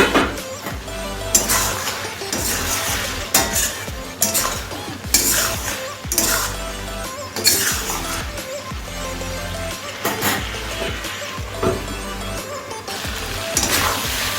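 A pumpkin, potato and tomato curry cooking in a pot on a gas stove, with loud repeated stirring and scraping strokes over a continuous sizzle, the clatter rising and falling in rhythmic bursts.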